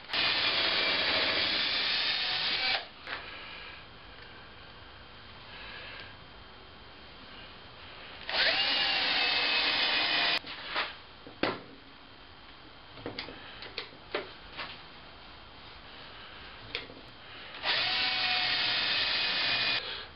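Drill driving screws into wooden pieces of a homemade clamp, with several sustained loud whirring runs broken by pauses, clicks and small handling knocks between them, close up and without speech.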